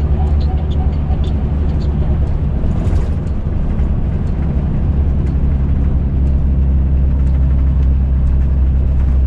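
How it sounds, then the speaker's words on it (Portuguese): A truck running on its third-stage engine brake in Sergipe, a steady loud low rumble and drone that holds on throughout, with a voice talking over it. "Lá no freio motor, terceiro estágio"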